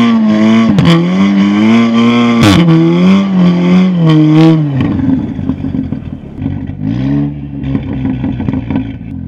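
An Audi S3 launches from a standstill in snow during a snowstorm, engine loud and close as it revs up in strong rising and falling pulls, then drops away to a rougher, lower rumble with scattered clatter.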